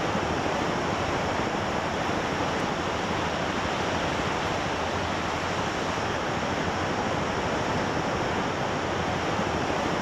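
Sea surf on the wild Bãi Đông coast of the Nghi Sơn peninsula in Vietnam, a steady broad wash of breaking waves with wind, unbroken and even throughout.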